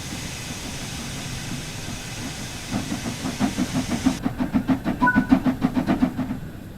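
An LMS Stanier Class 8F steam locomotive in the game Train Sim World moves off with rhythmic exhaust chuffs. The beats grow louder and quicker as it gathers speed, over a steady hiss of steam.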